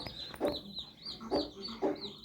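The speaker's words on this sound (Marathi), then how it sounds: "कोंबडी छान पिल्लं सांभाळते बरं का" A hen clucks softly and repeatedly while tending her chicks, the short close calls coming in loose bursts over a quiet background with a faint high peeping above.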